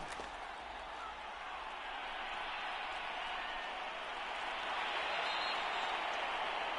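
Crowd applause in a football video game rises as a steady, broad wash of clapping and cheering that swells slightly toward the end.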